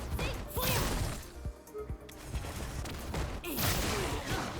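Falke's gunshot in Street Fighter V lands after a delayed cancel, part of a dense run of sharp hits, thwacks and whooshes from the fight, loud throughout with steady game audio underneath.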